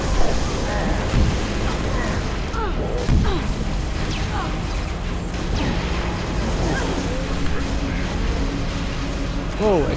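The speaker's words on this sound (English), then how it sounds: "Explosion!" Explosions and crashing blasts from a Halo: Reach match rumble loudly in repeated bursts amid dense gunfire and game noise, with players talking over the action.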